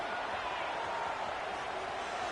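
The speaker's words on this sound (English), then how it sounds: "listen to this crowd noise. This stadium is vibrating." A dense, steady roar from a packed stadium crowd at a UCLA versus Ohio State football game, continuous and loud with no breaks.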